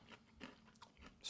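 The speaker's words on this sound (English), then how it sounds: "Can you hear that crunch?" Soft crunching bites on seared, salted tomahawk beef eaten off the bone, a few close, quiet crackling chews spaced irregularly, ending with a sharper scrape.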